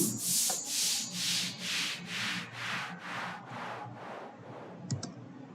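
White noise synth patch in Vital with an LFO pulsing its level, giving a steady rhythmic whoosh that swells and fades about eleven times, each pulse hissy and bright, growing gradually softer toward the end.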